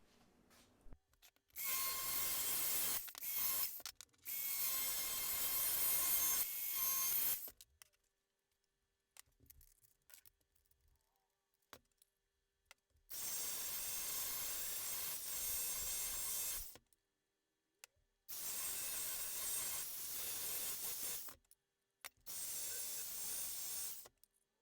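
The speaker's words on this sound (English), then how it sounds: "just using the grinder with a flat disc" An angle grinder with a flat disc works a metal pipe for an external wastegate dump tube, its loud hissing grind running in several separate bursts of a few seconds each, split by short quiet pauses.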